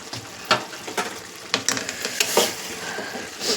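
A spiced curry being stirred in a frying pan, with steady sizzling and repeated scraping strokes of a spoon against the pan, close and fairly loud, without talk.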